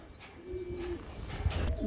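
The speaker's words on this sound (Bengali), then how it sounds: "জার্মান শিল কবুতর" A German shield pigeon coos softly at close range, a brief low throaty call heard alone against faint background noise at a fancy pigeon market.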